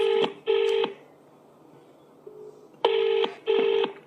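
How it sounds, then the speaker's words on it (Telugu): Outgoing phone call ringback tone: two paired bursts of ringing, then a pause, then two more, loud and clear with a faint hum beneath and no talking. "తనకు ఫోన్ చేస్తాను, ఒక్కసారి వినే ప్రయత్నం చేయండి."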